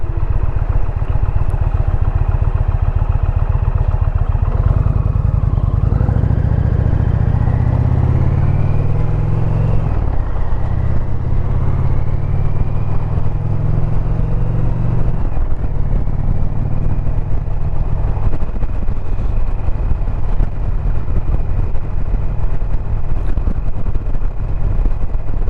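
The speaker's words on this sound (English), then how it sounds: "Someone else is out enjoying the day on their bike as well." Another motorcycle rides past on the road, its engine swelling and fading beneath the constant loud roar of wind and the rider's own bike engine.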